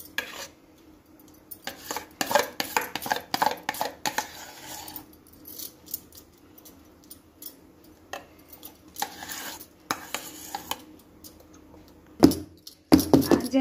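A metal pot of cake batter is tapped repeatedly, giving irregular clattering knocks that come in clusters, some faint and some sharper, with a few louder metallic bangs near the end.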